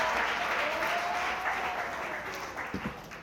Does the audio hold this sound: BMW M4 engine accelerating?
no